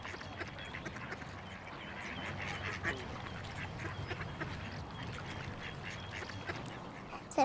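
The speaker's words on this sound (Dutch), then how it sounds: "Er zijn ook een paar ganzen gekomen." Scattered waterfowl calls, quacks and honks from several birds, over a steady outdoor background, moderately near.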